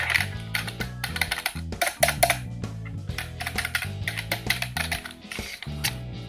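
Clicky keystrokes from an older, louder computer keyboard, typed in a fast, steady run of sharp taps that stays close and prominent, with music playing loudly underneath throughout.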